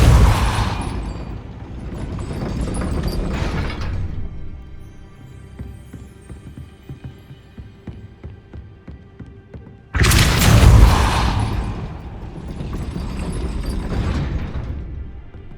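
Spell-casting effects from the Hogwarts Legacy video game fire off as loud booming blasts and thumps in two dense bursts, with a quieter mechanical rattling stretch between them and no talking.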